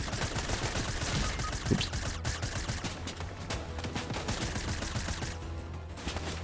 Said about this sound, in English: Oh, I'm getting shot already.